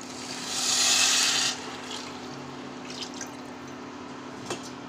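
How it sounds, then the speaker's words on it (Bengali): Water is poured into a cooking pot of biryani holding gently fried rice and whole spices: a short, rushing splash of about a second, then a quiet simmering background with a few faint drips and clinks. "এবার এটা আমি জল দিয়ে দেবো"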